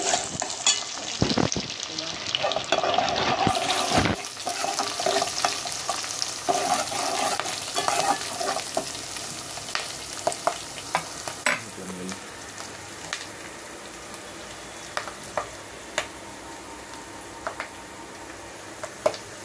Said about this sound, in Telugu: ఈ పోపు కొంచెం ఫ్రై అయిన తర్వాత కరివేపాకు అయితే వేసుకుంటున్నానండి.